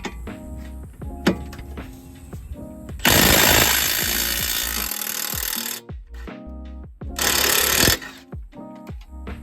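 An impact wrench works on suspension nuts of a Lexus IS250 during a coilover install in a garage, with loud close rattling bursts of several seconds separated by quieter clanks and handling noise.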